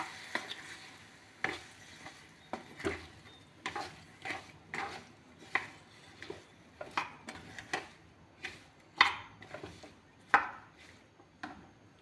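A spoon stirs white vinegar into homemade ginger pickle, with repeated soft scraping strokes and light clinks against the bowl at an uneven rhythm, close and fairly quiet.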